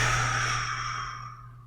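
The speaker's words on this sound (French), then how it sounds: "pour relâcher les tensions et souffler en relâchant." A single long exhale released after holding the breath to relax tense shoulders and chest, a breathy rushing sigh that fades gradually over almost two seconds above a low steady hum, with no talking.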